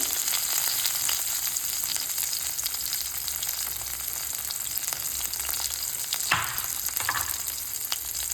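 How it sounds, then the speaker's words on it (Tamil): Urad dal, cumin, shallots and curry leaves fry in hot oil, giving a loud, steady sizzle with a few sharp crackles and spatter pops near the end, without any talk. "உளுத்தம்பருப்பு போட்டு நல்லா பொரிய விடுங்க."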